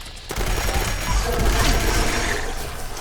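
A Railway Rifle fires in Fallout 76, a sustained, roaring volley of rapid shots with heavy low rumble that fills the whole stretch after a brief quiet start.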